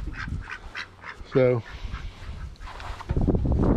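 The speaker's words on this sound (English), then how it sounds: "That's a pretty duck." A duck in a backyard chicken coop gives a short burst of rapid, loud quacks close by, with people talking before and after it.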